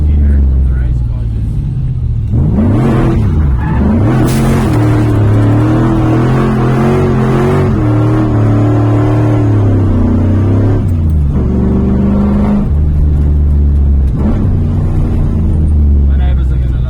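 Nissan 200SX race car engine revving and accelerating during a ride-along, loud and continuous with rising and falling pitch sweeps as gears change, voices talking over it throughout.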